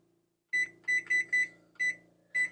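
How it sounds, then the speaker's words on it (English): A kitchen oven timer goes off during cake baking, giving six bright electronic beeps at an uneven pace. The beeps are close and clear over a quiet room. "Turn this timer off"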